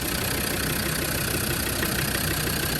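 A restored 2003 Land Rover Defender 90 with a TD5 diesel engine idles with a steady, even rumble and a slight knocking chatter, close by and with no talking.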